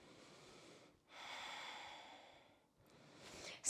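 Slow, deep breathing in mountain pose at the end of a yoga flow, with a long audible exhale followed by a softer inhale, close and fairly quiet, with no talking.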